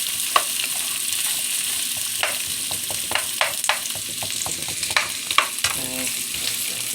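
Food sizzling steadily in a pan used for frying potatoes, a constant hiss broken by scattered scraping and stirring clicks of a utensil against the pan, close and without talk.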